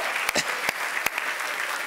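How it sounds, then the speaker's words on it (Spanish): Audience applause in a church gathering, a short burst of clapping with a few sharper claps standing out, moderately loud and fairly close, with a faint voice underneath. "Dense un aplauso fuerte."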